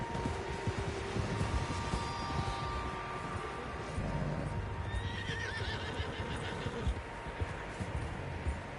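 Horses neigh and whinny while hooves clip-clop in the Red Dead Redemption 2 video game, several animals heard at moderate distance over a busy outdoor game soundscape.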